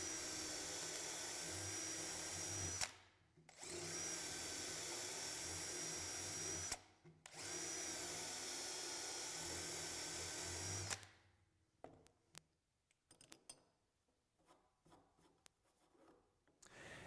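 A power drill cuts mortises for BeadLock loose tenons in two long, loud, steady bursts with short breaks between them, followed by quiet scraping and handling noises nearby.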